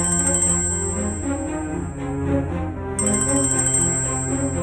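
A phone ringtone plays, a melodic electronic tune with bright, high chiming bursts that cut out and return partway through.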